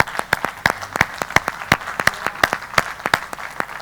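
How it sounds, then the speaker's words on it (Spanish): Applause at a panel discussion on business and sustainable development goals, heard as a short run of distinct, fairly loud hand claps, about four per second and evenly spaced, with no talking over them. "Un aplauso muy fuerte."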